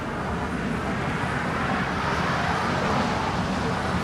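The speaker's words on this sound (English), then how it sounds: "That is American 1270 departing to Phoenix. It's an A321." An American Airlines Airbus A321 departing Los Angeles International Airport for Phoenix makes a steady, loud broadband jet roar that stays constant and swells slightly, with no voices.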